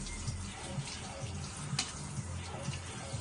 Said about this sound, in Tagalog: Tama na, patay mo ng gripo.